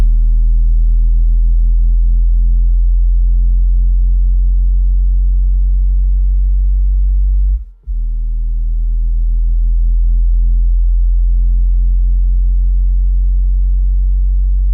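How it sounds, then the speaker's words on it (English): A low-frequency sine sweep test tone plays through an amplifier: a steady, loud deep hum that cuts out abruptly for a moment and then resumes, with no voices. "So we're going to do a sweep."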